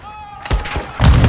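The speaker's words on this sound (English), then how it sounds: "Whoa. They're launching grenades." Grenade launches in Call of Duty Modern Warfare 2 combat: two loud, close thumping blasts in quick succession, the second heavier, following a brief lull.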